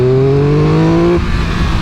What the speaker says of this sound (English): Wicked airbox noise